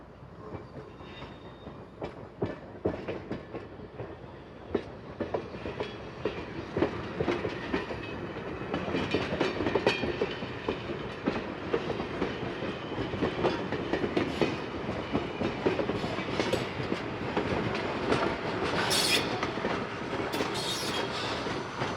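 A train engine rolls along the rails past a switch onto the main track, giving a steady rumble with rapid clickety-clack wheel beats and occasional metallic squeals, continuous and fairly close throughout.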